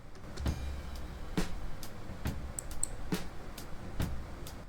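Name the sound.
hi-hat without any processing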